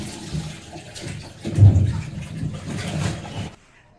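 A washing machine drum full of clothes filling with water, a steady rushing gush that swells in the middle and cuts off abruptly near the end, close and fairly loud with no voices.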